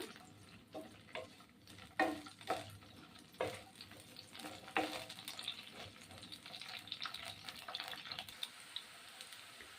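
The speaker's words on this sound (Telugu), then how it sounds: "ఇది ఒకసారి కొంచెం వేయించుకుంటాను" Torn green chillies fry in a pan with scraping stirs and soft sizzling, irregular spoon clatters and pops standing out near and fairly quiet against a low background.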